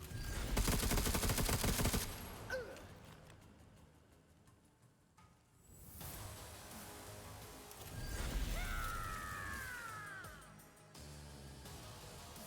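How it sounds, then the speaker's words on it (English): Gunfire from the video game Necromunda: Underhive Wars, a loud rapid burst of shots up front, then quieter mechanical clatter and a later swell of action noise with whooshing effects; no talking. "I'm going to shoot you 3 times."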